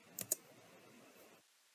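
Several clicks of typing on a computer keyboard while searching an online order, two sharper keystrokes early then soft faint tapping, close and alone before falling silent.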